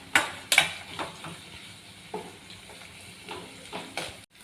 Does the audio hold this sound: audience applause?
no